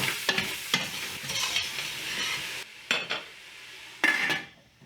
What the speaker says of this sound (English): add in your onion, peppers, and jalapenos. And give that a good stir